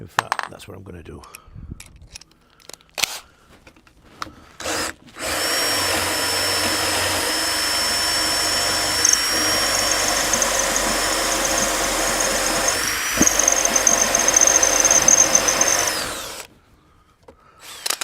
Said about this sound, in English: This is not the sharpest drill bit I've ever used, by the way.